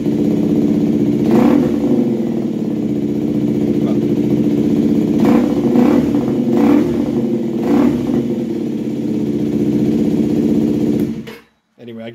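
A motorcycle with a swapped engine runs loudly up close, its steady idle rising in a few throttle blips before cutting out abruptly near the end, with a person talking over it.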